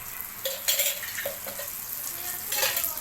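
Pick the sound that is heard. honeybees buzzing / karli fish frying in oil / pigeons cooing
karli fish frying in oil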